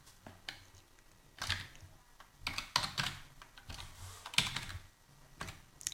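Keys clatter on a computer keyboard as PHP code is typed, arriving in irregular bursts of close, crisp clicks with short pauses between them and no voices.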